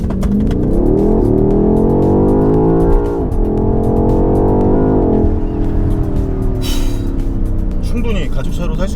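A 625-horsepower BMW X6 M Competition SUV launching under launch control, its engine a loud, sustained roar that climbs steadily in pitch, dips briefly at a shift, then keeps pulling with a heavy rumbling drone.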